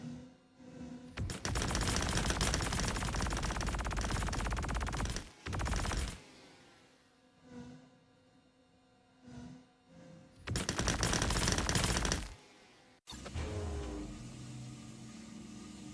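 Gatling guns on a Star Citizen ship's forward and top turrets fire in long, loud, rapid-rattling bursts, broken by short pauses and quieter mechanical whirring between volleys.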